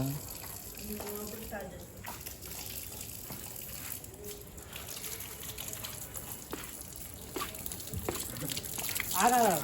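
Tap water runs into a sink while someone washes their face, a steady gushing splash that swells louder toward the end, with people talking and voices in the background over it.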